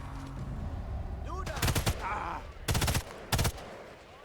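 Gunfire and a grenade blast in Sniper Elite 5, with faint murmuring at first, then three sharp bursts of loud rapid shots separated by brief gaps, a rising whine between them.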